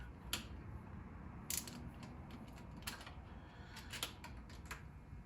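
Ratchet working a banjo bolt free on the front turbo oil feed line of a Mitsubishi 3000GT, giving a few quick, separated clicking bursts over a steady low background hum.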